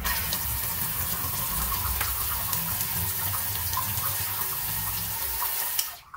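Water runs steadily from an instant electric water heater tap, a continuous close hiss and patter of flow that holds evenly before cutting off abruptly at the end, with no talking.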